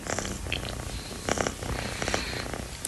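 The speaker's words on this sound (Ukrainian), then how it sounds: "Так ще муркає, мур-мур." A sleeping cat purring steadily and softly up close, a low continuous rumble with a few faint rustles, no voices.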